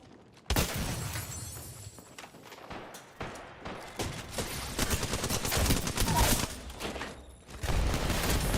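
Heavy gunfire in Apex Legends, with sustained automatic bursts, crackling impacts and shattering hits that build in intensity after a sudden loud onset.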